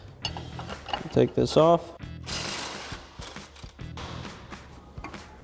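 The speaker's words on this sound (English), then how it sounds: "So we've got our 21mm socket on our impact and our 21mm wrench." Impact wrench with a 21mm socket on the lower shock mounting bolt of a RAM 1500 front strut; one short, harsh burst of rattling hammering sits between stretches of nearby talk and clicking tool handling.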